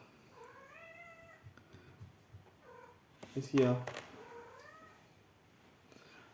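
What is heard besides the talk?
cat meowing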